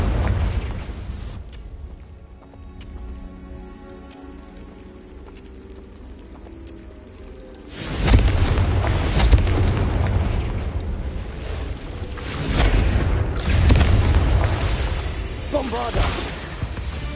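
Bombarda and Confringo spell explosions in the Hogwarts Legacy video game: after a quiet stretch with faint tones, a loud booming blast erupts and rumbles on, with a second surge of crashing noise later, all dense and close.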